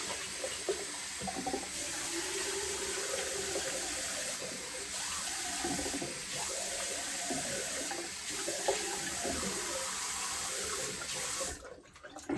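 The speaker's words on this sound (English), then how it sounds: "Always seems to take ages for my cold water to come through." Cold water runs steadily from a tap into a sink for several seconds, a constant hissing splash at moderate distance with faint rustling in the room, then stops abruptly at the end.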